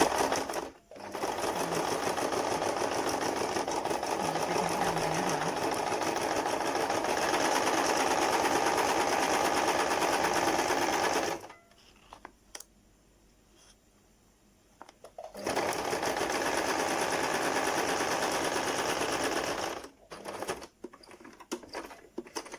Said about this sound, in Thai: แล้วก็จะเย็บผ้ากับแผ่นใสติดกันนะคะ